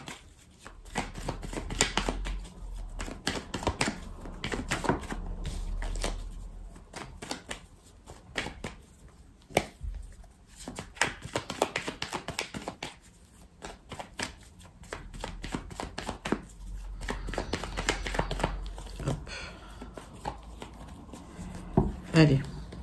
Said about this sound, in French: je le mélange bien, hop, comme ça